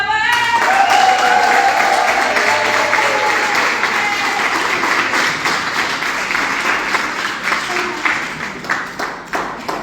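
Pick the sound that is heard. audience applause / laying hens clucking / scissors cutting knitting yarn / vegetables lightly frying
audience applause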